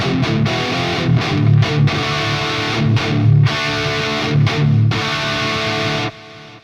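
Heavily distorted electric guitar through a Friedman BE-OD overdrive pedal, with loud chugging riffs and sustained chords, alone and close, ending abruptly.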